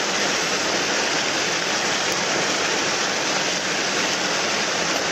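Rushing water of a waterfall pouring into its plunge pool, a dense, loud, steady roar that continues unbroken and alone throughout.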